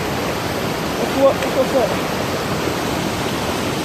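A mountain waterfall and rushing stream in North Carolina roar as a loud, steady wash of white noise, with a brief spoken exchange heard faintly over the water.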